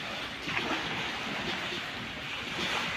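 Sea waves wash in at high tide on a beach at Koh Lipe, a steady close surf rush with wind buffeting the microphone and no talk.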